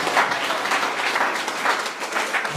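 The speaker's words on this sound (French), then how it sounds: "Applaudissons le Seigneur, frères et sœurs." Church congregation applauding together in a steady, dense wash of clapping that fills the space without pause, with no talk over it.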